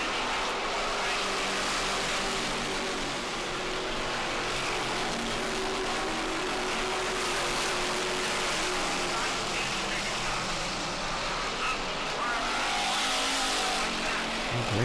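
Race cars at a New England short-track oval run steadily at speed, a continuous loud engine roar with no break, while an announcer talks over it.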